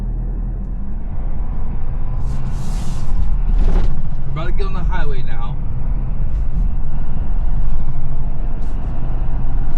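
Diesel engine of a 2025 Ford F450 truck rumbling loudly and steadily from inside the cab while driving with the exhaust brake on, a deep continuous drone under someone talking.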